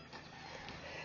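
Chickens clucking close by near a horse arena, a dense, busy cackle of fowl filling the short moment without any voice over it.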